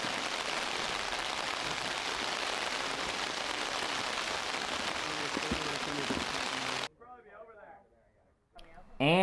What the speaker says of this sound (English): We'll be right back here once this rain clears up and the field is safe to play.